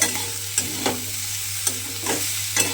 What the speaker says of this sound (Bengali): পেঁয়াজটাও কিন্তু এর সঙ্গে দিয়ে এইভাবে ভাজা ভাজা মতো করে নিতে হবে